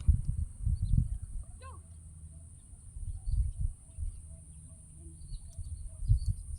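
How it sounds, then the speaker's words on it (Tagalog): Scattered faint bird chirps and calls come from the distance over a low rumble of wind and movement. "Ang raming ibon na."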